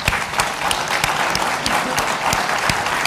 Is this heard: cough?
no